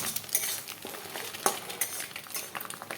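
Eggs stirred in a pan with five-spice tempering and bay leaf, a light sizzle broken by frequent scrapes and taps of the spatula against the pan.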